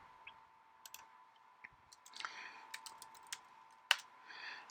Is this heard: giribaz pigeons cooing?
no